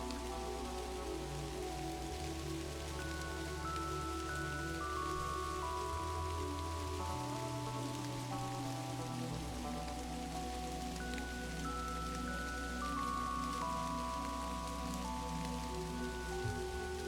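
Steady rain patters continuously beneath a sustained musical drone in the video game Kathy Rain, a constant wash of falling water with no voices.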